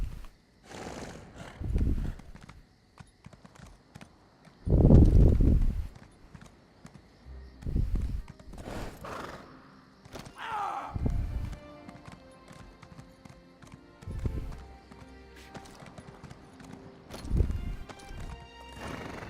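A horse in the fantasy video game Elder Scrolls Online clip-clops along, with heavy hoofbeats and several loud whinnies and neighs, close and in the foreground.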